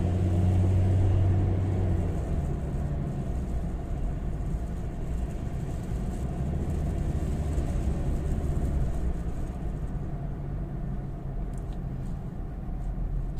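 A Ford Ranger engine with a MAP and MAF airflow fault idling and running rough, a steady low rumble that swells and eases as the revs fluctuate, heard close with no talking.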